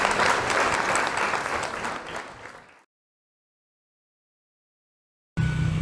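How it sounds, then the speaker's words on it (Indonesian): Applause for a Sunday school song performance at a church service, a full, steady burst of clapping that fades out, followed by silence and then a brief tonal sound at the end. "kita kasih tepuk tangan yuk untuk kesaksian pujiannya"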